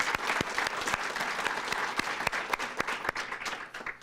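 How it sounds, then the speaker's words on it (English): Audience applause for sponsors at a community recognition event honoring children, a steady wash of many hands clapping at close range, with a few sharp individual claps standing out throughout. "Let's have a round of applause for all of our sponsors."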